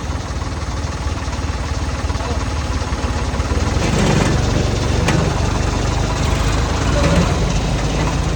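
Near and loud, a tractor engine labours while towing another tractor, its deep rumble growing heavier partway through, with people talking over it and a couple of sharp clanks.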